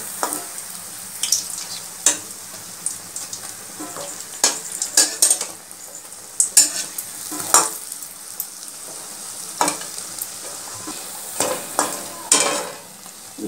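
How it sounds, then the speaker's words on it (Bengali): Biuli dal fritters frying in oil over a low gas flame, with a soft, even sizzle punctuated by scattered clicks and taps of a utensil nearby. "এইভাবে গ্যাসের জোরটা কমিয়ে আমি ভেজে নেব।"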